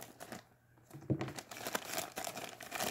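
A squishy plastic packaging bag being cut open with scissors gives close, quiet crinkling and rustling, with a brief snip-like crunch in the middle and more handling noise after it.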